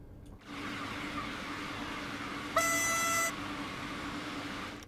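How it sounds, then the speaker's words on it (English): An electric rapid transit train in Train Sim World 2 hums along with a steady low motor drone and rolling noise, joined midway by a brief bright electronic warning tone that then stops. "I don't mind if it's an electric train with some decent audio."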